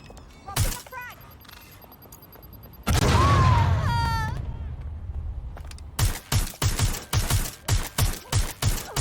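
A frag grenade goes off in Watch Dogs: Legion with a loud, sustained blast that fades slowly, followed by rapid rhythmic gunfire bursts amid game effects.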